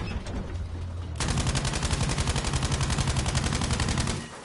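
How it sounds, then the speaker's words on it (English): Sustained automatic machine gun fire in a World War II tank battle video game, a loud rapid continuous burst of evenly spaced shots lasting several seconds after a brief rumble, then cutting off. "Someone wants to waste some machine gun ammo."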